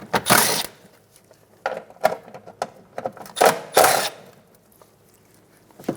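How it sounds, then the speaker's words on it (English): Inner fender bolts being loosened and removed on a 2014-2019 Toyota Highlander, heard as several close, loud bursts of ratcheting and metal clatter separated by short pauses, with no talking. "Now working on the back side of the inside fender, we're going to remove the 3 bolts."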